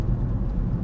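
An Audi Quattro engine pulling on light throttle, a steady low droning hum with road noise, close and continuous through the short stretch, no talk over it.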